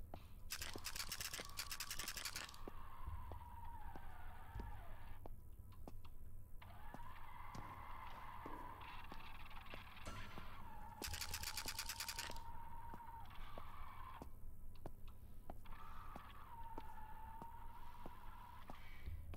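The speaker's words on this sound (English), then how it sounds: "Investigate the grinding noise." Grinding noise in the horror video game Tattletail, a quiet mechanical whine that wavers in pitch over faint scraping. Two harsher grinding bursts break in at intervals, all at low level with no talking.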